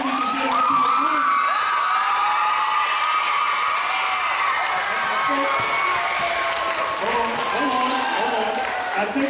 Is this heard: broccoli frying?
no